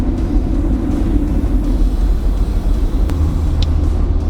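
Jeep Wrangler JL on 37-inch tires cruising at about 46 mph, heard from inside as a loud, steady low rumble of engine and road noise with tire hum and no breaks.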